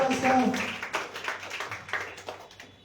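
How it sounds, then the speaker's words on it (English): Audience clapping for a prize winner at an English/Hindi elocution event, scattered hand claps in an uneven rhythm, fairly close, running under and between a speaker's talk. "Give a big round of applause for Astha."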